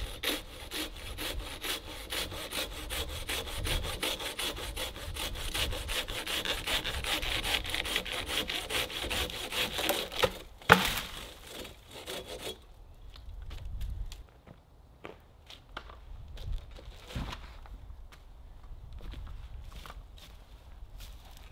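A hand saw cuts steadily through the wooden ridge pole of a bushcraft shelter, its rapid strokes sounding close for about ten seconds. Afterward come a sharp knock, quieter rubbing and faint handling noises.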